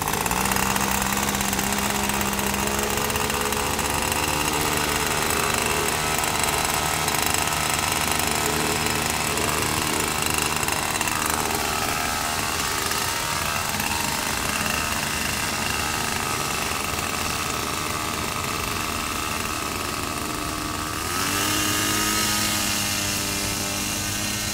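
The engine of a .76 swamp boat runs hard at throttle, a loud, continuous roaring drone with a buzzing whine. The pitch shifts slightly near the end and there is no clear talk.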